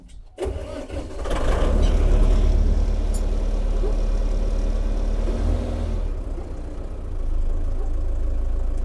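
A small tractor's diesel engine cranks and catches, then settles into a steady, rumbling warm-up idle that continues throughout, close by and fairly loud.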